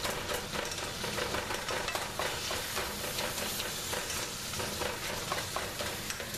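Ground meat frying and being stirred in a pan for queso dip: steady dense sizzle with repeated scraping strokes of a spatula, close and continuous, no voices.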